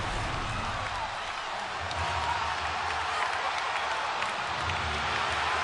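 NBA basketball arena crowd during a 2006-07 game between Denver and Detroit: a loud, continuous roar of cheering and applause from the stands, steady throughout with no breaks.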